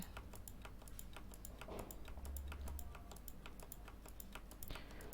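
A Ctrl+D shortcut pressed on a computer keyboard in Microsoft Office, part of a quiet run of crisp, evenly spaced key clicks typed close by with no talking.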